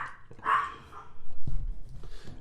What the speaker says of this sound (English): A goddamn dog!